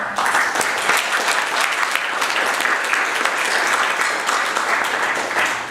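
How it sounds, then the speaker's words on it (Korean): An audience at a breakfast business forum gives a speaker a round of applause: dense, loud, sustained clapping from many hands that holds steady throughout, with no talk over it. "여러분 정가병 박사님한테 박수를 한번 더 부탁드리겠습니다"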